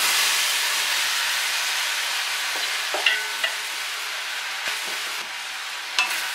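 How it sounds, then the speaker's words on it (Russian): Sliced hard apples sizzling steadily in hot caramel in a pan, with a few soft knocks and scrapes of stirring breaking through the constant hiss. "Перемешиваем."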